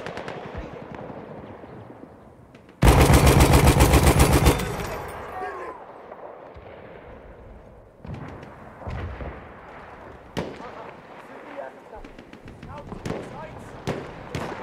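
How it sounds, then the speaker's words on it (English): Enemy machine gun firing in Battlefield 1, a loud rapid burst of close automatic fire lasting under two seconds, followed by scattered distant gunshots and booms across a battlefield. "Enemy machine gun!"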